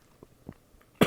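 Several soft coughs spaced a fraction of a second apart build into one loud, sharp cough burst at the end, from a speaker during a spoken talk episode, close and with no other voices.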